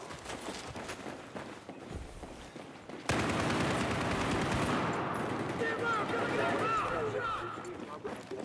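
Bursts of automatic gunfire from a Battlefield 4 Domination match build into a dense, sustained fusillade, loud and close, with a player's voice talking over the shooting.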